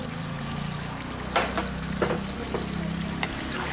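Mutton curry with garam masala stirred in a pan at the end of cooking, a steady soft sizzle with a few scraping strokes of a spoon against the metal, close and fairly quiet, no voices.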